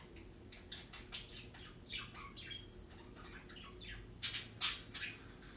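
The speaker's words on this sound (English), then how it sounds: "If the bird want to fly on my hand and let me touch it" A bird squawks and flaps close to a person's hand, giving sharp, scattered calls and brief wing rustles over a quiet background. The loudest squawks come near the end.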